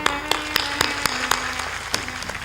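An audience at a live satsang claps in a sparse scattering of sharp, separate claps over a steady tonal hum, heard from near the front.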